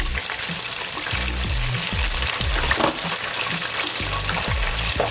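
A Cornish hen deep frying in hot oil, a loud, dense, steady sizzle and bubbling, close up with no one talking.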